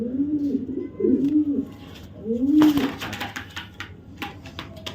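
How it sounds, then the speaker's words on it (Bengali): A pigeon coos in low, throaty bursts, close by, repeating several times with soft rustling and clicking in the background. "এটা হচ্ছে নর কবুতরটা"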